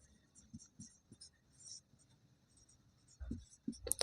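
An equation is handwritten, giving faint, close scratchy pen strokes in short bursts, with a few louder taps near the end.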